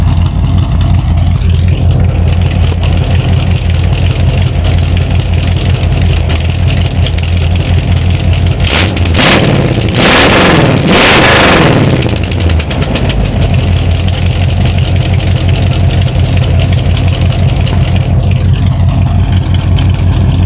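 A 1982 Chevy Suburban hearse with a slipping transmission runs with a loud, steady engine rumble, climbing into a couple of strong revving bursts midway before settling back to idle.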